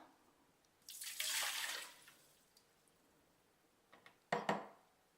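Water pours briefly into a clean pressure cooker, a rushing splash lasting about a second, then quiet before a second short splash.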